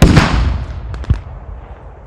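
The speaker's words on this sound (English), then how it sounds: "Panzer just took a shot." A Panzer tank cannon fires in the World War II shooter Post Scriptum: one loud, close blast with a long rumbling decay, followed about a second later by a few fainter, distant pops.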